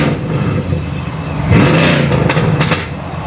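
A tuned Mercedes CLS63 AMG with a Race IQ Stage 2 tune revs loudly close by, its exhaust giving a few sharp crackling pops and bangs over the rising engine roar.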